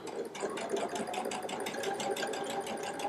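A Baby Lock Solaris sewing machine with a 1/4 inch piecing foot stitches a quilt-block seam, a close, continuous fast chattering whir with regular rapid needle beats and no speech.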